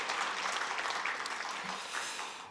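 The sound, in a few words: congregation applause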